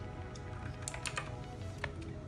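Keys tapped on a backlit gaming keyboard of a CyberPower PC, a few soft scattered clicks at close range over a steady low hum, no voices.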